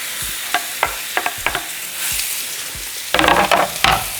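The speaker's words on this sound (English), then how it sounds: "Once hot, we're going to throw in our meat." Beef steak hitting hot oil in a skillet for tacos de bistec, a steady bright sizzle with several sharp clatters and stirring scrapes, then a louder burst of crackling frying near the end.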